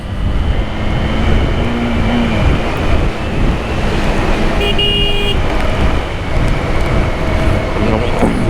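A car descends a steep mountain road on the way from Keokradong toward Boga Lake, with steady loud engine and road rumble plus wind buffeting at the microphone throughout, and a few brief tonal whines partway through.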